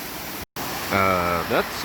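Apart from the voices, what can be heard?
waterfall rushing on a creek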